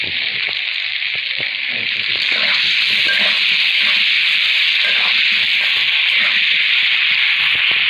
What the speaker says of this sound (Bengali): আলু আমি লাল লাল করে ভেজে পানি দিয়ে সিদ্ধ করে নেব।